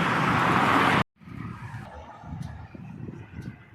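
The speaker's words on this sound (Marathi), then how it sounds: "तुम्ही पाहू शकता गाड्या जाऊ राहिल्या" Vehicles on the Samruddhi expressway: a loud, close whoosh of a passing car cuts off sharply, followed by a steady low roar of traffic moving past at a distance.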